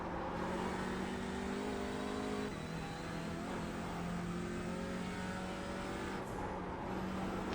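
Engine of an Audi TCR race car lapping the Nürburgring in iRacing, a loud, steady in-car drone that holds its pitch, eases briefly as the throttle lifts, then keeps droning.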